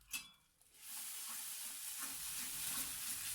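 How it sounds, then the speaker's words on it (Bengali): Raw ground sweet corn paste cooking in ghee in a pan, a close, even sizzle with soft stirring, after a brief clatter at the start. "একটু নাড়তে থাকুন লেগে যাওয়ার সম্ভাবনা থাকে কিন্তু ওই জন্য একটু আমি ঘি দিয়ে দিয়েছি"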